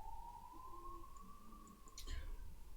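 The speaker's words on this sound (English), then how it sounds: "And the ambulances and the church bells are driving me crazy." A single siren wails faintly in a street, one long steady tone rising slightly then easing, with a brief clatter near the end.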